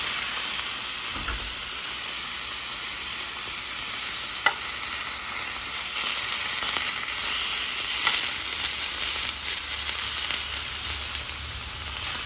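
Tomatoes fry in a pan for an Irish breakfast fry-up, giving a steady, close broadband sizzle and hiss with occasional stirring clicks and no voices.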